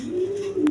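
A pigeon from a high-quality pair gives a single short, soft coo close by, with a faint click at the end and no talking.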